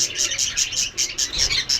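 Spangle budgerigars in a breeding aviary chirp in quick repeated bursts, a steady chattering flock call that fills the short stretch without pause.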